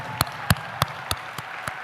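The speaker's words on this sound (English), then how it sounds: "Let's give them a round of applause." At a charity gala auction, a handful of separate, sharp claps ring out about every third of a second, sparse and fairly close rather than a full crowd ovation.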